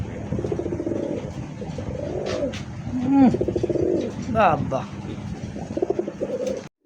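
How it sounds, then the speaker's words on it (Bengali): Blue bar racing pigeons, including a club-tagged hen, give repeated soft, rolling coos nearby, rising and falling in short bursts while someone speaks over them. "ব্লু বার মনে করেন এটা রেসার কবুতর"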